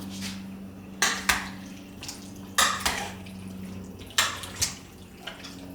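Chicken thighs being tossed with olive oil using a tablespoon, giving a handful of short clinks and wet scrapes at irregular intervals against a low steady kitchen hum.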